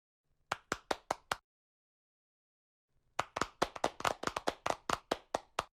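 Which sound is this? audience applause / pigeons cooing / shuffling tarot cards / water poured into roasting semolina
audience applause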